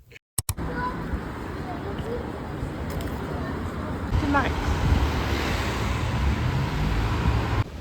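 Wind gusting outdoors in Paris, a constant rumbling blustery noise buffeting the microphone that grows stronger partway through, with a voice talking over it.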